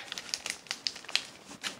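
Plastic wrapper of a Pokemon Breakthrough card pack crinkling in scattered short, fairly quiet bursts as someone handles it and tries to open it, with no talking.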